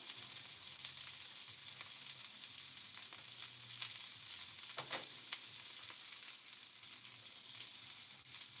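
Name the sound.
vegetables frying on a flat top grill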